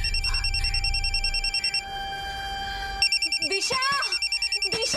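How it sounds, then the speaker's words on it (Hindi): A mobile phone rings behind a locked door, its repeating electronic ringtone pattern fairly clear, while voices talk over and around it. "फोन की आवाज तो अंदर से आ रही है।"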